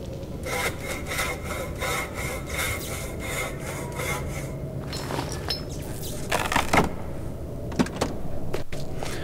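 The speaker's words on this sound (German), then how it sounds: "Kann ich jetzt mit der Säge vielleicht diesen Balken durchschneiden," Handsaw cutting through a wooden beam in a puzzle video game, a steady series of rhythmic rasping strokes up close, followed by a few scattered knocks and scrapes.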